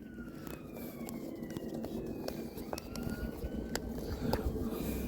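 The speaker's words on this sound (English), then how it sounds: "Sorry about the sirens." Emergency vehicle sirens wail in the distance outdoors, faint rising and falling tones running steadily under a broad wash of background noise for several seconds.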